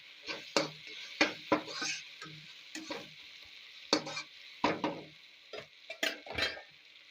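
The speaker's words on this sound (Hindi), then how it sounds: "अब इनको अच्छी तरीके से, इन स्पाइसेस को अच्छी तरीके से मिक्स कर लेंगे।" Spices with turmeric stirred and mixed in a sizzling pot, with a spoon scraping and knocking in irregular strokes over a steady frying hiss.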